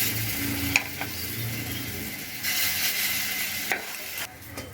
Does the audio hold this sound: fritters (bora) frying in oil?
yes